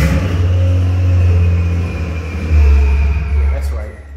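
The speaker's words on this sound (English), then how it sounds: "Turbo noises." Turbocharged Honda Prelude H22 engine running on a dyno, a loud steady low rumble with rising revs and a faint high turbo whine over it, up close throughout.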